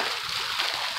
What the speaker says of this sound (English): the sound of water is very soothing and relaxing to me